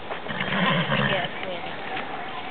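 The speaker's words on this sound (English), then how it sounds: "Is that your horse?" A horse whinnies in a loud, drawn-out neigh that fills most of the short moment, close by and mixed with background noise.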